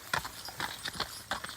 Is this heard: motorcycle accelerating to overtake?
no